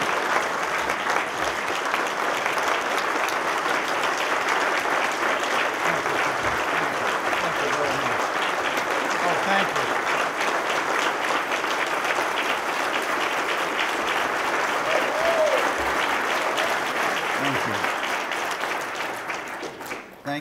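An audience at a speaking event in Sarasota, Florida claps steadily to welcome Judge Andrew Napolitano, a dense, even round of applause sustained for about twenty seconds before tapering off at the end.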